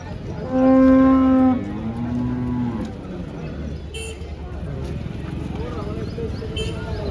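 A cow gives a single loud, drawn-out moo near the start at a cattle market, then background noise with faint voices continues.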